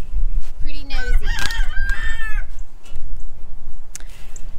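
A rooster among free-ranging chickens and turkeys lets out one loud, close crow, followed by quieter clucking and farmyard background.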